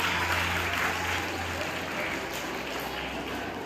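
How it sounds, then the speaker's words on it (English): Students clap in a school auditorium during an investiture ceremony, a steady, dense wash of applause filling the whole moment at moderate level with a low hum underneath. "Students, please clap your hands."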